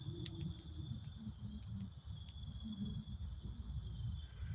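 Steady, high-pitched cricket chirping fills a quiet night in the woods, with faint scattered ticks and soft background noise; small frogs are also present.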